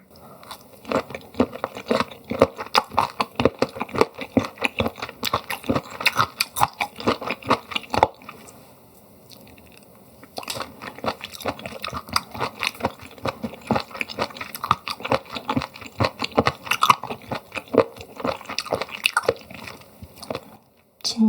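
Raw turban shell sea snail eaten as sashimi with sweet chili vinegar sauce, close crunchy chewing and biting in a steady rhythm, with a short quiet pause midway before the chewing resumes.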